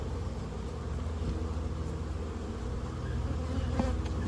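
Carniolan honey bees buzz around a hive being installed on a ranch, a dense, continuous droning hum of many insects close by, steady throughout with no talking.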